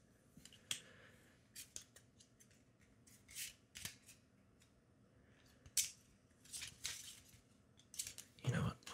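Playing cards being shuffled by hand during a quiet tabletop game of Flip City, a string of close, crisp riffling and snapping bursts, soft and intimate.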